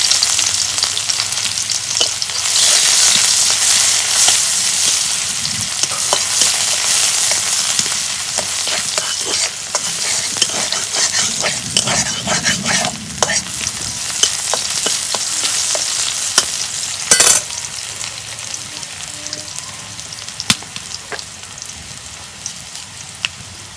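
Chopped onion hits hot oil alongside small puti fish for a red spinach curry, a loud bubbling crackle of frying with scattered sharp pops and stirring, no talk.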